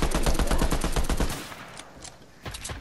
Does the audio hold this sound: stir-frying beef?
no